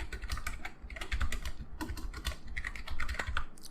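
Close, quick keystrokes clatter on a computer keyboard as a command is typed, an uneven run of clicks and taps with brief pauses.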